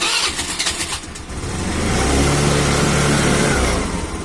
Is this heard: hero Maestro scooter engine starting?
yes